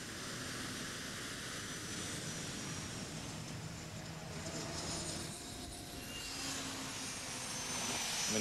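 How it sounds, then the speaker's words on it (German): Military jet aircraft engines start, spooling up with a rising, roaring whine over a steady low rumble, growing louder toward the end; no speech. "Wenn die Triebwerke angelassen"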